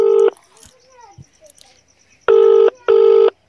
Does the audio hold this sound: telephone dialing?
yes